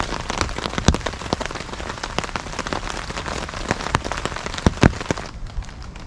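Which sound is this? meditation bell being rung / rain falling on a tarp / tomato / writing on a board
rain falling on a tarp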